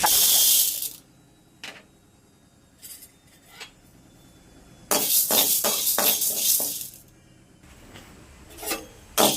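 Chana dal being dry-roasted in a pan, with a spatula scraping and rattling the lentils in short bursts and quiet pauses between them, close by and with no talking.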